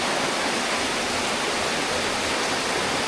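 Pha Li waterfall roars in a steady, dense wash of rushing water, loud and unbroken throughout with no voices.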